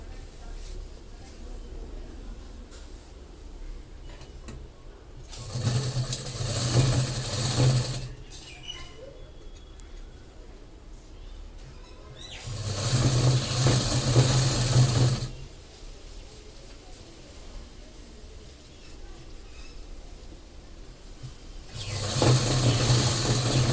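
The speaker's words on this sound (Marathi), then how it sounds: "पहिले आपण काय करू, साईड शिलाई मारून घेऊ" A sewing machine stitches the side seam of a lined blouse in three loud bursts of several seconds each, separated by quieter stretches of room noise and soft talk.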